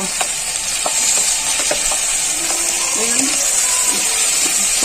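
Small chuno fish frying in oil in a pan just uncovered, giving a steady close sizzle with scattered clinks of a spatula stirring against the metal.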